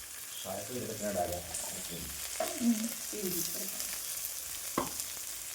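Ginger frying in a hot pan, a steady sizzle with a few scraping stirs and clicks of a utensil against the pan, heard close and with no talking.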